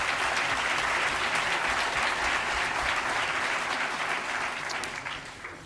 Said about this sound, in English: Would you also stand up so we can give you a round of applause?